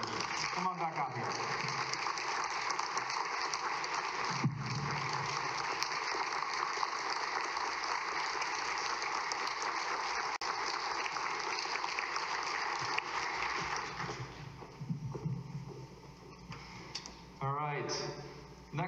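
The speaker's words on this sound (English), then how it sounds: "how about another round of applause?" A concert audience at a college jazz ensemble fall concert applauds steadily and loudly for most of the stretch, a dense wash of clapping that thins out near the end.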